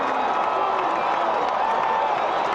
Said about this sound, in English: as the Yankee fans cheer.